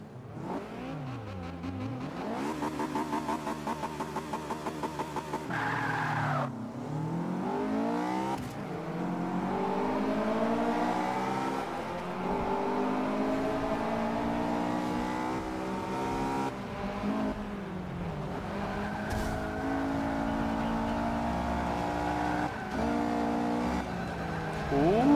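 Racing car engine in Forza Motorsport 5 revs loudly and continuously, rising and falling through gear changes with repeated upward sweeps, with brief tyre squeal amid the steady roar.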